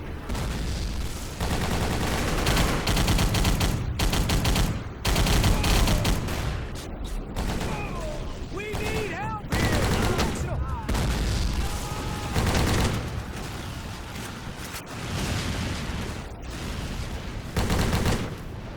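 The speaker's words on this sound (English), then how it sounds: "Throwing a grenade here." Sustained gunfire and explosive booms fill a shooter video game battle, with a grenade among the blasts, loud and dense throughout with brief gaps.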